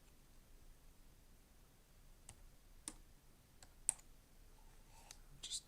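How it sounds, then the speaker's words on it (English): Sparse, faint clicks of computer keyboard keys being pressed one at a time, typed one-handed, irregular and unhurried, over a quiet room hush. "Just typing one-handed because I got a coffee in my other hand."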